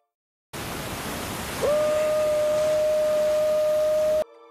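Waterfall roaring as a steady, dense wash of falling water, with a sustained tonal whine rising over it midway through before it cuts off abruptly.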